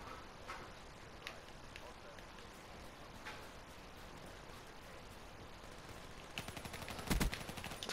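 Shotgun fire in Call of Duty Black Ops 3 multiplayer comes through faintly as scattered single blasts, then a louder cluster of rapid shots near the end, set against quiet game background noise.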